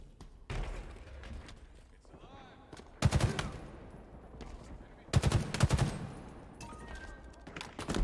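Gunfire in a Halo Infinite multiplayer match, with bursts of automatic weapon fire coming in two loud clusters among scattered shots, thuds and game ambience, some near and some more distant.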